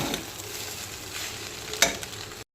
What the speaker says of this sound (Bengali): ভালো করে আমি নাড়াচাড়া করে নেব